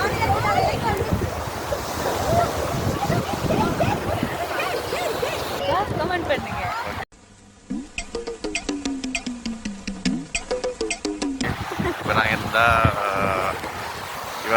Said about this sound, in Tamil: We are here in beach.